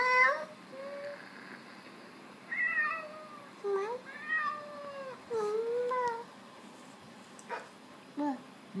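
A young child imitates a cat at bedtime, giving several drawn-out, sliding meows separated by short pauses, close and clear.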